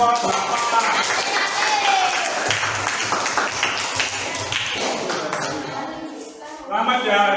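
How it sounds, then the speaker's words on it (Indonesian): Classroom applause for group 8 during a computer lesson, a busy patter of clapping from students with a teacher's voice and chatter mixed over it, tapering off before a final short burst. "Ayo tepuk tangan untuk kelompok 8"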